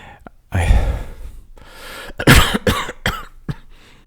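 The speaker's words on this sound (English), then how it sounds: "He hid his face and coughed into his sleeve before he went on." A man coughs into his sleeve, several muffled, harsh bursts at close range with gasping breaths between them.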